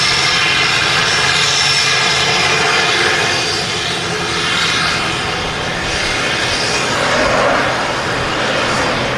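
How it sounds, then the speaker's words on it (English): A Jet2 Boeing 737-800 airliner arriving at Manchester Airport produces a loud, steady jet engine roar that swells and eases slightly over about nine seconds, with no talking. "Also got this Jet2 737-800 in from Dalaman."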